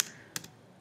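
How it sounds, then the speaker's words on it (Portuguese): Computer keyboard keys pressed for Ctrl C and Ctrl V, heard as a quick cluster of faint close clicks, a few taps in under a second. "Vou dar um Ctrl C, Ctrl V"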